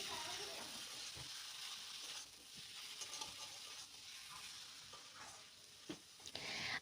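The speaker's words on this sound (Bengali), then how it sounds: "এবার আবারও একটুখানি আমি মিশিয়ে নিচ্ছি" A cabbage filling with cashews and coriander leaves is stirred in a pan, giving a soft, low sizzle with occasional faint spatula scrapes, quiet and close.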